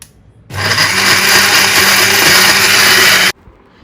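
A mixer grinder grinds a salted paste, whirring loudly and steadily for about three seconds, starting and stopping abruptly, with a low churning rumble beneath the high motor whine.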